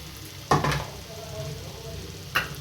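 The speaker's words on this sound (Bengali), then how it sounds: "দেখো আমি এক এক করে আলুগুলো আমি দিয়ে দিচ্ছি।" Potato pieces dropping one at a time into hot oil in a frying pan for a vegetarian soybean and potato dish, two sharp sizzling bursts over a low steady frying hiss.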